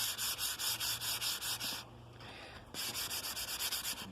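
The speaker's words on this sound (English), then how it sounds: "Let's see if I can adjust and sand" Oak wood is sanded by hand with quick, even back-and-forth rubbing strokes, close and fairly loud. The strokes pause briefly partway through, then the same rhythm resumes.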